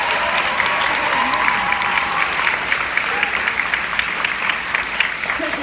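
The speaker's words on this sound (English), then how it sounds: "Please give them one big round of clapping." Sustained applause from a theatre audience for the show's spot-operator lighting crew, dense and steady clapping throughout with a faint murmur underneath.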